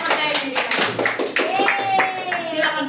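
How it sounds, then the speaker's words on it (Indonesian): A class claps for a student, a dense patter of many hands close by, with voices speaking over and through it. "Berikan tepuk tangan untuk Mbak Aisyah yang sudah percaya diri."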